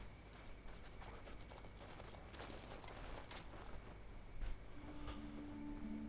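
A horse in the Crimson Desert video game runs down a mountain, its hooves sounding as a quiet, rapid clip-clop rhythm over a steady game background, with a few faint tonal sounds near the end.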